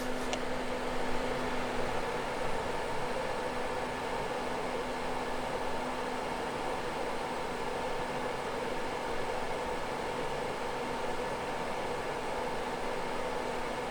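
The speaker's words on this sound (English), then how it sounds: "You can feel fan sucking from this side" Cooling fan of a 2400 W Alibaba power supply whirring steadily at close range, a constant airy hiss with a faint tonal hum and no change over time.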